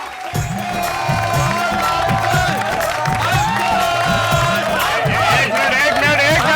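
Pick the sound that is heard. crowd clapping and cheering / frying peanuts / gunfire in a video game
crowd clapping and cheering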